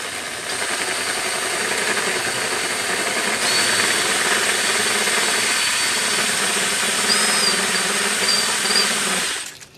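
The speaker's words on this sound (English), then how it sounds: "All right, so this is going to buff this down." A spinning machine buffs a glitter mechanical pencil with a steady, loud whirring hum that runs for nearly ten seconds, then cuts off abruptly at the end.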